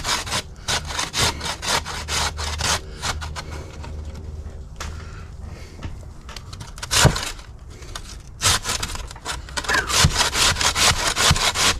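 Potatoes rasp against a hand grater for hash browns, quick repeated scraping strokes in uneven bursts, close and moderately loud with no talking.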